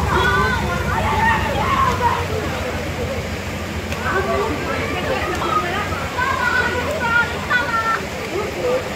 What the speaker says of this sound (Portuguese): Invadiu água ali na casa da mulher.